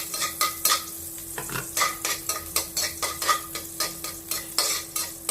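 Squid adobo simmering in coconut milk with garlic in a pan, stirred with a utensil that gives repeated scraping, clinking strokes over a steady close sizzle.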